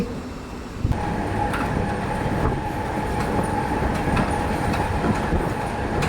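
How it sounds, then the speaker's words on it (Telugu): Riding aboard the Simhadri Express as it overtakes a diesel goods train from a loop line: loud, continuous rumbling with rhythmic wheel clatter and a brief sharp thud near the start. "మన ట్రైన్ వచ్చేసి లూప్ లైన్ నుండి అయితే ఓవర్టేక్ అయితే చేస్తుందండి ఈ డీజిల్ గూడ్స్ని అయితే"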